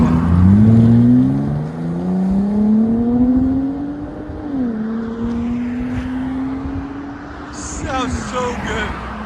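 A 2019 Dodge Ram 1500 eTorque with a 3.6-liter V6 and Borla Pro XS exhaust, resonator deleted with a 6-inch tip, revs up loudly and settles into a steady drone, with a brief higher sound near the end.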